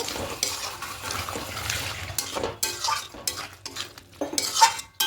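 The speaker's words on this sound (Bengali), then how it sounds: "এবার এখানে চানা মশলাটা দিয়ে দেবো দিয়ে খুব ভালো করে মিশিয়ে নেব" Paneer with chana masala stirred in a pan, a low sizzle under repeated scraping and clanking of the spoon against the pan, with sharper knocks toward the end.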